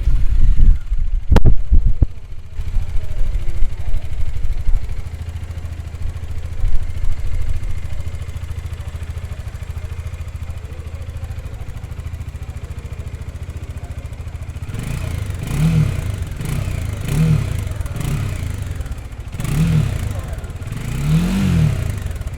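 A Bajaj Dominar 400 motorcycle engine idles with a low steady rumble, then revs several times in short rising bursts, close and loud.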